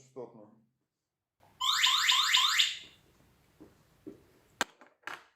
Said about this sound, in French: Lorsque nous coupons le câble, cette étiquette commence à déclencher une alarme.